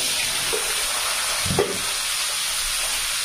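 Cumin seeds temper in hot oil in a home kitchen, giving a continuous close hiss and sizzle with a couple of soft stirring knocks midway, no voices over it.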